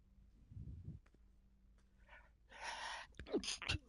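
One close, breathy sneeze arrives in two quick bursts near the end, after quiet murmuring and a soft inhale, in a home setting during online gameplay.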